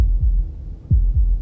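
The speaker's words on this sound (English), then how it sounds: "That was the sound of a heartbeat" A heartbeat sound effect from the Slay the Princess video game gives deep, low thumps, one beat and then a double pulse, close and heavy over a faint hum, with no voices.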